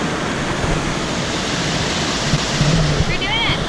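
Water rushing down Mae Sa Waterfall, a loud, dense, continuous roar close by, steady for the whole stretch with no clear voices over it.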